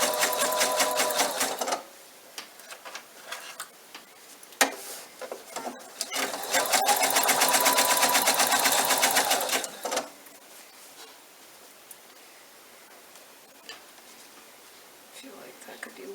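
A sewing machine stitches fabric for a bunny bag in two loud, steady runs of rapid mechanical whirring, separated and followed by quieter handling noises and pauses.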